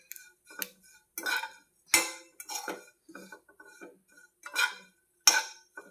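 A spoon scrapes and clinks against a pan as ingredients are dry-roasted until crisp, in irregular short bursts separated by near silence, close up and moderately loud.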